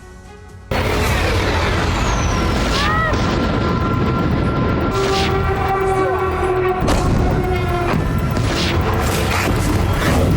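Heavy booming explosions at Russian military sites rumble through dense, roaring noise, with sharp cracks scattered throughout; loud and continuous, like distant bombardment.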